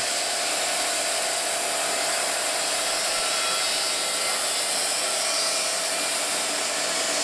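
A sawmill running through a white oak log produces a constant loud, bright whining roar of blade and engine, steady throughout with no break and no voices.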